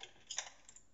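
A handful of light keystrokes on a computer keyboard, quiet and close, tapping in a short uneven burst during PHP coding with no one talking.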